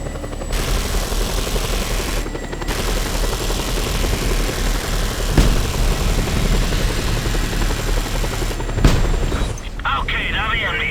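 Helicopter rotor drone from the Just Cause 2 video game holds steady throughout, with bursts of gunfire and a couple of sharp booms cutting in, while voices speak over the action.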